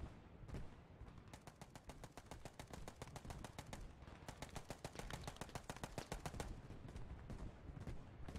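MG42 machine gun firing in the World War II shooter game Post Scriptum: loud, close, sustained rapid-fire bursts with a dense rattling rhythm that barely pauses, no voices.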